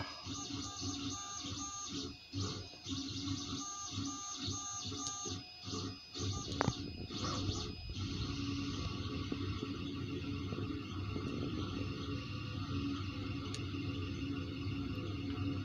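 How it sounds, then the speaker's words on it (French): A 3D printer works at 100 mm per second, its stepper motors giving quiet whirring, buzzing tones that change pitch in short rhythmic bursts early on, then settle into a steadier hum. "Là, elle imprime à 100 mm seconde."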